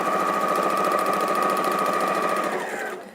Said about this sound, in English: So sewing with a 1/4-inch seam.